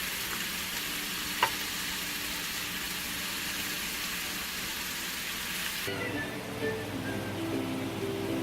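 Shrimp frying in a pan for a curry make a continuous, fairly quiet sizzle with a faint tick near the start, and the sound grows softer and duller in the final seconds.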